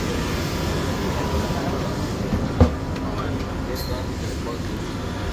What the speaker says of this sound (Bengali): The train approaching is for Lucille, QNB.